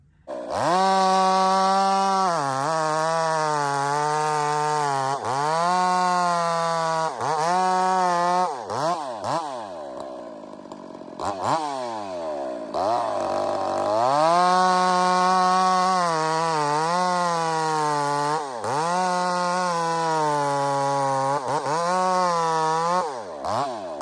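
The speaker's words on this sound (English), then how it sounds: "this saw is running a big muffler" A Husqvarna 371 chainsaw fitted with a big muffler, cutting dead maple, revs loud and close in repeated rising and falling bursts with brief throttle drops, running steadily throughout without speech.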